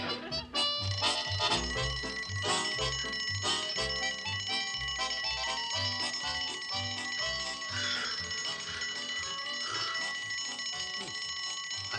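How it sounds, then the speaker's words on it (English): A small bell tinkles in quick repeated rings over steady background music, bright and clear throughout. "tinkling her little bell"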